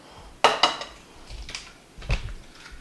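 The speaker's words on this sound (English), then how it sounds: "So, we slice up nice thick slices." Thick slices of bread being cut for French toast in a home kitchen, heard as a few close, sharp knife-and-board knocks and scraping strokes spaced across a quiet moment, with no talking.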